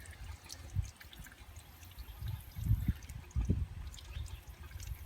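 A plucked duck being lowered into a pot of hot duck wax, giving soft low sloshing and liquid gurgles in a few irregular bursts, fairly quiet and with no speech.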